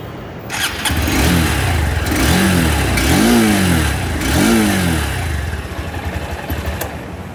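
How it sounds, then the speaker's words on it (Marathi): A 2024 Honda CB200X motorcycle starts up close by, then runs with a loud, steady engine note that rises in several revving surges before settling back, with no talk over it. "तुम्हाला मी आता या बाईकचा साऊंड ऐकतो कसा असणार तो. पहिल्यांदी चाबी ऑन करतो."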